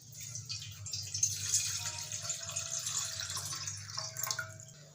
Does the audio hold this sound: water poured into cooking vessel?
yes